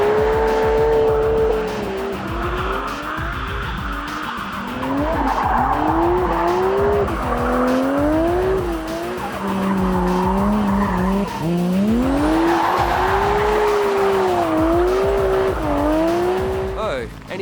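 A low-mount turbocharged Nissan Skyline R32 drifts at a GT-R challenge event, its engine note rising and falling with long, loud tire squeals and skids, near and continuous, with voices talking over it.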